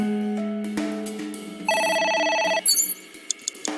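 A telephone rings in the video game AI: The Somnium Files, an electronic ringtone with repeating tonal pulses and a bright burst of rings, alone without speech.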